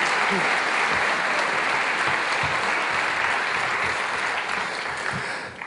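Audience applause at a 2014 athletics awards ceremony honoring academic all-star athletes: a dense, steady roar of clapping from a large crowd that holds loud throughout and tapers slightly at the end.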